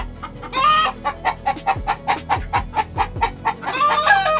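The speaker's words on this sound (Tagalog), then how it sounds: "Ilap yung manok." Farm chickens clucking in a rapid, steady series of short calls close by, with a couple of louder, noisier squawk bursts at the start and end; no talking.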